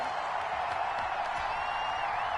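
Football video game crowd giving a slow clap, heard as a steady, even wash of distant stadium noise that holds at a constant level throughout, with no individual claps standing out.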